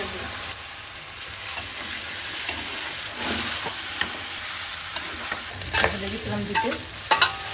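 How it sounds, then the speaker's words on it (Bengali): Spice paste of onion, chilli, ginger and garlic paste and turmeric fries and sizzles steadily in a pan, with repeated scraping stirs and a few sharper clinks near the end, no voices. "মশলা কষানো হবে, পেঁয়াজ মরিচ দিয়ে, আদা বাটা, রসুন বাটা একটু বেশি করে দিই"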